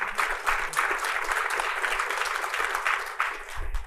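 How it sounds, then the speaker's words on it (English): Audience applause, a sustained patter of many hands clapping at moderate volume, easing slightly toward the end as a low thump sounds. "Let's give a round of applause to Jimmy."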